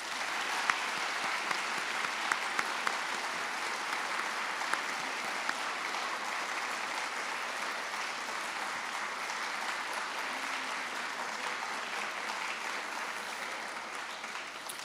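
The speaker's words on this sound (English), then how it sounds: "Please give them a big round of applause." Sustained audience applause at a high school Veterans Day assembly, steady and dense throughout, many hands clapping together with a few sharper claps standing out.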